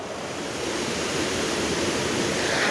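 Taxopamba waterfall, a cascade about 10.8 metres wide, heard at nightfall near a campsite: a steady, loud, continuous roar of rushing water with no break and no voices.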